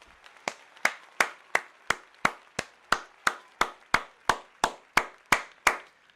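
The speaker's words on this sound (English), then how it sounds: "Round of applause, AMG." A single person claps slowly and evenly, about fifteen crisp, close claps spaced roughly a third of a second apart with no other sound.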